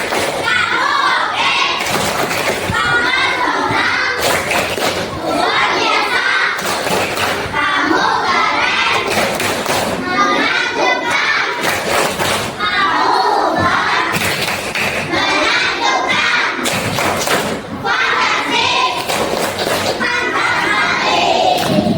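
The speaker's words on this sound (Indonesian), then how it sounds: "Tepuk apresiasi." A group in a classroom does rhythmic appreciation clapping with loud shouted chanting, evenly spaced claps repeating in a steady pattern, close and energetic throughout.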